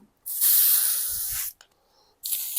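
A siphon-feed airbrush sprays white paint in two close, sharp hissing bursts: a long blast of just over a second, then a pause, then a second burst starting.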